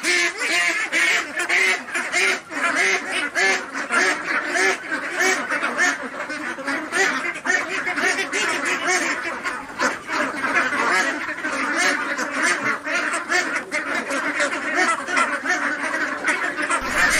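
A large flock on a duck farm in Bangladesh quacks continuously, a dense, close chorus of overlapping calls that keeps up without a pause.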